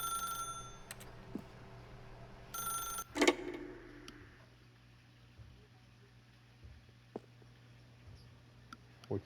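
A telephone rings in The Stanley Parable: Ultra Deluxe, a short electronic bell burst then a sharp ring, followed by quiet room tone with faint bumps.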